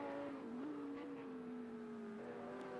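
A Lamborghini GT3 and a Ferrari GT3 racing at Imola in Project Cars 2, a steady high engine drone with a clear tonal whine that dips and rises slightly through gear changes, fairly faint.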